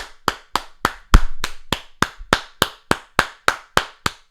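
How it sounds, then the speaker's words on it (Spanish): Clapping follows a remark during a lecture on Scripture and Catholic tradition. About fourteen sharp, evenly spaced claps ring out close and loud in a slow, steady rhythm, with almost nothing between them. "Un aplauso"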